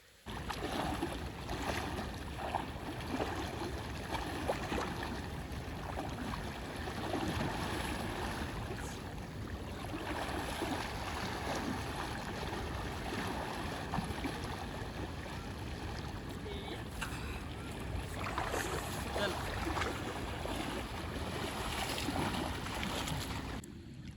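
Water of the Arjuni river flowing steadily in an outdoor setting in Vadgam, Banaskantha, a broad continuous rushing wash with faint talk underneath.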